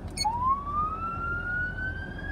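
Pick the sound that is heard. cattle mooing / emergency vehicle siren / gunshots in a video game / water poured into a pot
emergency vehicle siren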